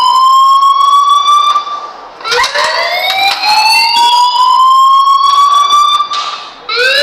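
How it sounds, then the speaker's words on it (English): A loud electronic alarm in the video game Life Is Strange wails continuously, its rising and falling siren tones overlapping and repeating, close and dominant, with no voices over it. "please turn off that alarm"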